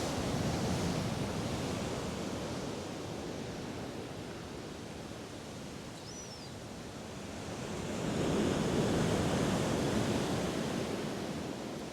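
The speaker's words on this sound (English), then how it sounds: "It's quite lively, the sea," Lively sea surf rolling onto the shore at Ventnor, a steady broad wash of breaking waves with wind, swelling louder toward the end, no voices.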